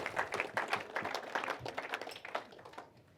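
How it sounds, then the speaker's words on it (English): Wedding guests clapping for the catering staff, a soft, fairly distant patter of many hands at a modest level with a faint crowd murmur underneath. "Just a round of applause to all the staff and the catering staff"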